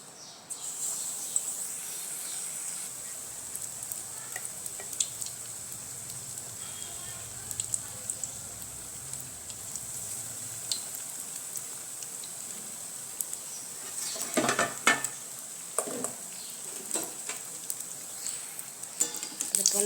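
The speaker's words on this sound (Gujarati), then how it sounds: "તો આવી જ રીતના આપણે બધા જ પકોડા તળી લેવાના છે." Bread pakoda coated in gram flour batter fry in hot oil, giving a soft continuous sizzle with a high hiss. Sharper crackles and bursts come near the end.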